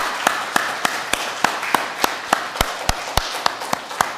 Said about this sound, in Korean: 우리 그분께 영광의 박수 올려드리시겠습니다.